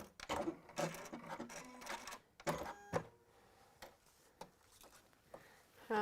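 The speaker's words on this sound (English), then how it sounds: "there's no bother sewing through it at all. Like, the machine doesn't struggle." A sewing machine stitches easily through six layers of fabric in short bursts of rapid mechanical whirring and clicking, separated by brief pauses and a few sharp ticks, heard up close.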